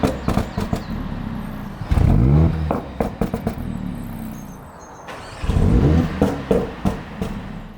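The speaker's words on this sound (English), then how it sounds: "you get a lovely pop, pop, bang, bang, bang going on, which is exactly what you want out of an A45" A Mercedes-AMG A45 S fires up and its exhaust crackles with sharp pops and bangs, two bursts of loud revving each trailed by a rapid run of snapping cracks, heard close and alone.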